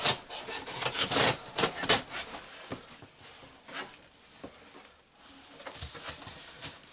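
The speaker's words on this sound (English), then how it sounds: "Let's get into this and see what we get inside of this box. Got my trusty sharp knife." A sharp knife slices open a cardboard box of Lego, making scratchy, rasping cuts in short uneven strokes that are loud and close, then softer toward the end.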